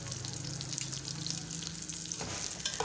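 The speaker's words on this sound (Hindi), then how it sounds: "तो इसमें मैं पहले प्याज डालूँगी।" Onions frying in hot oil for tadka rice give off a steady, close sizzle that holds throughout, with a brief stir or clatter near the end.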